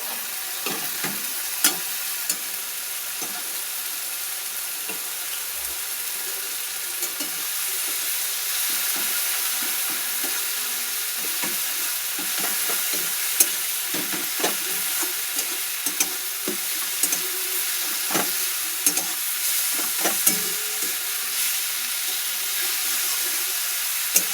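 Jute leaves fry in oil rendered from rohu fish, giving a steady, continuous sizzle with scattered crackles and stirring clicks throughout, up close and without speech.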